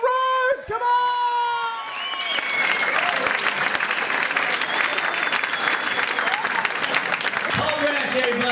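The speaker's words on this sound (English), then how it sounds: "I want you to put your hands together and clap and cheer and welcome on stage, Mr. Tom Rhodes." A comedy show audience in Sydney bursts into loud, sustained applause with scattered cheers and whoops after a brief shouted introduction, and the clapping continues densely to the end.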